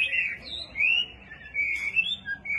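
A Chinese hwamei songbird sings a continuous, varied run of bright, clear whistled phrases that rise and fall in pitch, close and fairly loud against a quiet background.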